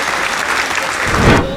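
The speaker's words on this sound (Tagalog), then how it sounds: "Palakpak tayong lahat." A crowd at a Filipino wedding-themed show breaks into brief, loud applause, a dense burst of many hands clapping that swells slightly near the end.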